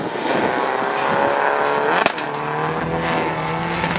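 Race car at POWERFEST 2025 on a qualifying run, its engine droning loud and steady with harmonic whine, a sharp crack near the midpoint, then a shifted lower engine note carrying on, no talk.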